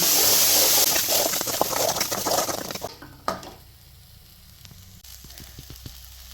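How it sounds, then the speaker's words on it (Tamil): Thuthuvalai chutney ingredients sautéing in oil, a loud bright sizzle that fades after a few seconds, leaving quieter crackles and scattered stirring taps against the pan. "எல்லாம் சேர்த்து நல்லா வதக்கிங்க."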